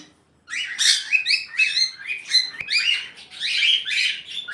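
Sun conures and cockatiels at a bird farm in Bangladesh chirp in overlapping bursts after a brief silent start, loud and close, with dense shrill calls and no talk.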